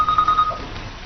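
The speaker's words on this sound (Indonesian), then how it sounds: "tiba-tiba ponsel Hairi berdering" A mobile phone rings in a Korean drama scene, a steady electronic ringtone tone sounding for about half a second over a quiet background bed.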